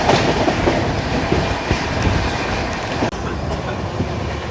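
The Tamil Nadu SK Express rumbles steadily along railway tracks, heard from inside a coach as a loud continuous roar with rhythmic clickety-clack wheel beats and faint metallic squeals.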